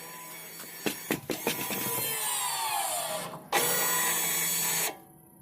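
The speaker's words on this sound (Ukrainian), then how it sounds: "Чуємо, як адаптувалися поршеньки." Rear brake caliper pistons of a VW Golf VII being electrically adapted, a loud motorized whirring that rises and falls in pitch after a few short clicks, pauses briefly, then runs steadily again before cutting off.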